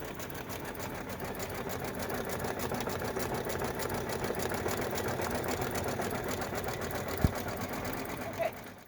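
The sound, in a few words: sewing machine sewing a Dodgers-themed bag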